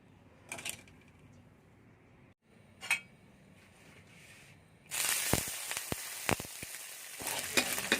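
Frog pieces with basil, chilies and garlic hit a hot pan, giving a sudden loud sizzle after several quiet clinks of utensils; the frying hiss then continues steadily with occasional stirring scrapes and clinks.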